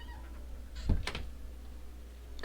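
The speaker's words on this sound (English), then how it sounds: "Cat." A single short cat meow from the video game Death and Taxes rises over a low steady hum, moderately loud and close, followed by quiet background.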